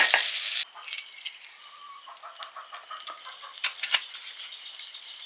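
Whole cumin seeds hit hot mustard oil with a burst of loud sizzling that quickly settles into a softer, crackling fry with scattered pops, heard alone without talk.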